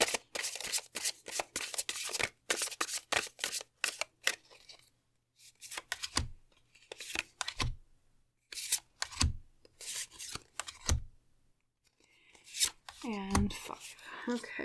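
Tarot or oracle cards shuffled in bursts of quick riffling and soft slapping, close by and fairly loud, with pauses between runs; a person talks intermittently between the shuffles.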